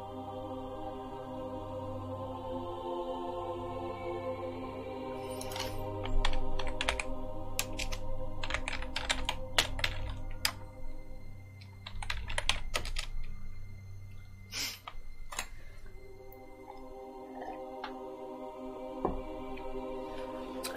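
Rapid, uneven keystrokes clatter on a computer keyboard, coming in bursts with short pauses, fairly close and quiet, with no talking over them.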